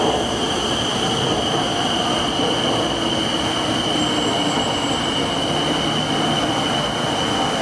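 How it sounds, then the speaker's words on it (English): A Bangkok Skytrain arrives at an elevated station with a loud, continuous rumble of rail cars and high, sustained wheel squeal running throughout, close by. "Here's my train."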